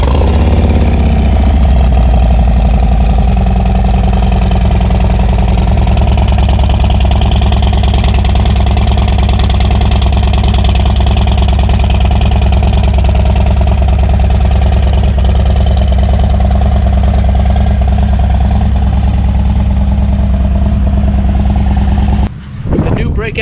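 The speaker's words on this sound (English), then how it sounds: "Let's take a listen to that exhaust." A 2023 Harley-Davidson Softail Breakout with the 117 Milwaukee-Eight engine idles through its exhaust, a loud, steady, deep rumble held close up for over twenty seconds before cutting off abruptly near the end.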